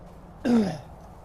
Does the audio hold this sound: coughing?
yes